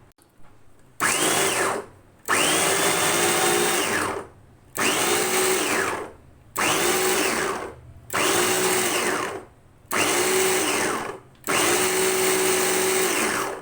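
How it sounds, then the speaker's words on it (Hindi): A Bosch electric chopper finely chops onion in six pulses, each a loud whirring burst of a second or two separated by short pauses, with no one talking. "ये बोश का चॉपर है जिससे मैं इस ग्राइंड करूँगी इसे।"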